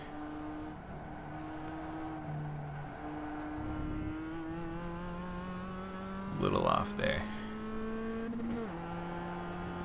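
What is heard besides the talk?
Mazda race car engine in iRacing video game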